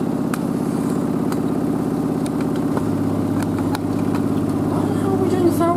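An LG DirectDrive F1496AD 6-Motion washer dryer spins its drum at around 1,000 RPM during a combined spin and dry cycle, giving a steady, loud mechanical whir with a constant low hum and some rattling, while a voice speaks over it.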